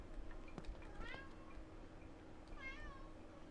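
A cat meows twice in a quiet indoor space, the first call near one second and a longer, rising second meow near the end, both clear and fairly close over a low background hum.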